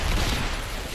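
Gunfire in the video game Fallout 4 as a dense, continuous fusillade of overlapping shots and booms, loud and steady throughout with no clear gaps between bursts.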